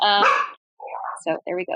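A pet dog gives a short bark and a few yips at close range, broken by brief gaps, with a person's voice speaking over part of it.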